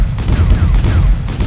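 A short stretch of heavy, continuous gunfire in the game Super Mecha Champions, loud and booming, with rapid shots blurring into a thick rumble.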